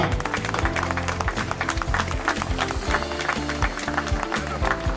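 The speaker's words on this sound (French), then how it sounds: "Valentin, bravo également ce beau podium, on peut les applaudir bien fort." Dense, sustained applause for the podium finishers at the Mini Tour Creusois youth cycling race, many hands clapping steadily over a low background hum at an outdoor ceremony.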